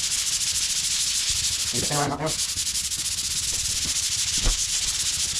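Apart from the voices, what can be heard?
sanding drywall joint compound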